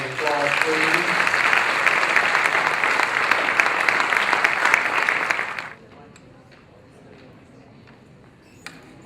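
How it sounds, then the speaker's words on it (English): A graduation ceremony crowd applauds Reverend Strusky with loud, dense clapping for about six seconds, then it stops abruptly, leaving a quiet room with a faint click near the end. "Let's give the powerful Reverend Strusky a round of applause"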